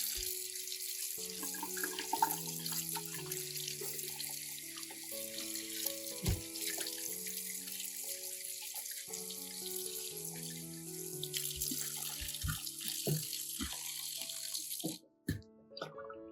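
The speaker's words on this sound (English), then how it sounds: "Wash thoroughly under running water." Running tap water splashes continuously into a sink while a whole corn cob, stripped of leaves and silk, is rinsed under it, a steady close rush with shifting tones, stopping briefly near the end.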